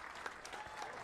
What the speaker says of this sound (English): A big round of applause for Bob climbing the ladder to get to the title match.